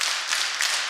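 A church congregation claps in unison, a brief burst of dense, roomy applause lasting under a second.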